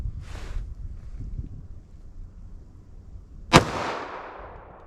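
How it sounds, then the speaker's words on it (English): A Glock 41 pistol fires a single .45 ACP round over a chronograph outdoors: one sharp, loud crack with a quick decaying tail, set against faint wind and a soft earlier rustle. "let's see how close we get to 935 feet per second with my Glock 41 here"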